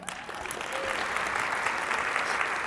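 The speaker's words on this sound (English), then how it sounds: "Give a round of applause for my assistant," An audience at a wellness talk in Frisco breaks into applause for an assistant; clapping swells within the first second and then holds as a full, even patter of many hands.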